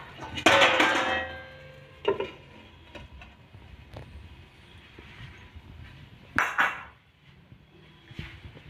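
A metal lid set onto a cooking pan of palak paneer gravy, with a loud clattering clink near the start, a smaller knock after, and another sharp clatter later among faint kitchen noise.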